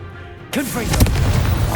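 In Hogwarts Legacy, a Confringo blasting spell lands with a sudden loud boom followed by a rumbling, crackling burst. Game effects sound under it.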